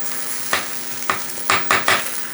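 Food frying in Signature cast iron pans, a steady sizzle punctuated by four soft scraping strokes in quick succession, close and alone without speech.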